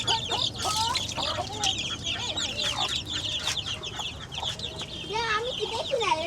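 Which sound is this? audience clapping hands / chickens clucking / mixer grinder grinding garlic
chickens clucking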